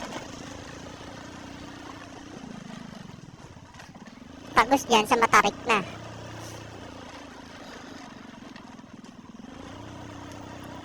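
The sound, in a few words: motorcycle riding on a road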